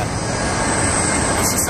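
A plane flies near the international terminal at Atlanta airport at night, heard as a steady, loud engine roar that fills the whole stretch without a break.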